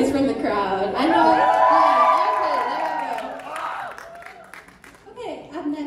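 A crowd cheers, whoops and applauds at a band performance during an international extravaganza event, a sustained roar that swells and then tapers, with a loud voice carrying over the top.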